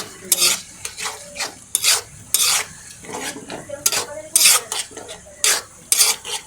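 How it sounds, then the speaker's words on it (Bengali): Onions and spices sautéed in a pan for a prawn curry, with a spoon scraping and stirring in repeated bursts against the pan, close and fairly loud, with a soft sizzle underneath. "কিছুক্ষণ মশলাটা আমি পেঁয়াজটা একটু কষাই নিই।"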